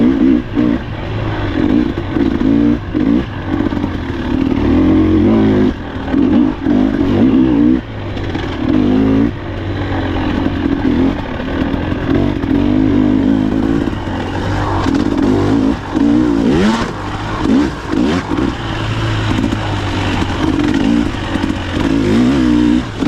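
A Husqvarna TE 300 two-stroke dirt bike is ridden along a trail, its engine loud and close, revving and dropping continuously with short throttle lifts and rattling clatter throughout.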